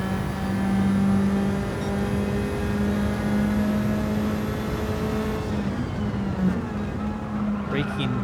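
A race car engine drones steadily at high revs around Watkins Glen in a sim racing game, loud and close, holding a sustained tone before easing and shifting near the end.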